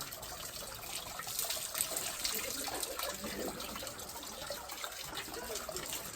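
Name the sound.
washing hands with water before entering a shrine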